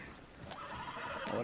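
A horse neighs in a brief, faint whinny with a slightly noisy background, heard alone without talk.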